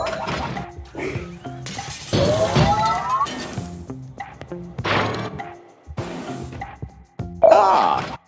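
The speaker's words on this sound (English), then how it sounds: "the breaking of this glass is a necessary evil" Glass shattering in the puzzle game Quantum Conundrum, heard as several crashing bursts of breaking glass with ringing tinkles, mixed with game sounds and a brief vocal groan, moderately loud and close.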